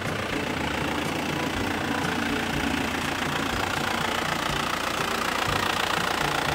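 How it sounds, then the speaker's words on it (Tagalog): An Isuzu Crosswind engine idles steadily with the revs raised by the idle knob, a continuous even mechanical drone with a slight knocking texture, heard close with no talking. "start natin yung engine natin"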